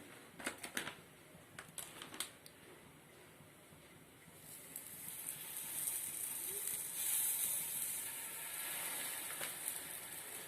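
Wheat poli laid on a hot dosa griddle sets off a steady, rising sizzle and hiss that builds after a few light taps and holds close and fairly quiet to the end, with no voices.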